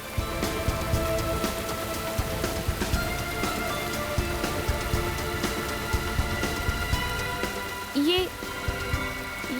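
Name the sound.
rain falling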